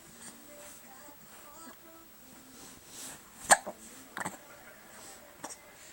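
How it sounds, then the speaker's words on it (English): A child hiccups several times in a quiet bedroom, with sharp, brief catches spaced a second or so apart, one noticeably louder than the rest, while an adult talks softly nearby. "You got hiccups."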